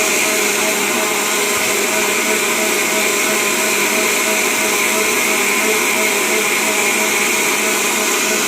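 An electric mixer grinder crushes masala in a small jar while a country-chicken curry is being made in a home kitchen. It gives a loud, steady whirring drone that holds without a break.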